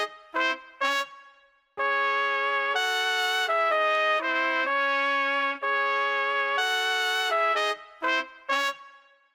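A layered brass loop processed with effects for a tech house track: short stabbed brass hits, then long sustained bright chords that shift pitch, then more short stabs, loud and alone.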